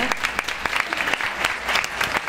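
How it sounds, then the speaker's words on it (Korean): Steady clapping from an audience welcoming a speaker, dense and continuous for a couple of seconds with no talking. "박수로 맞아주시기 바랍니다"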